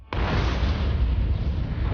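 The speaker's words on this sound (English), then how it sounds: "the star blows itself apart" A sudden deep boom erupts after a brief silence, then rumbles on as a loud, sustained roar for the rest of the clip.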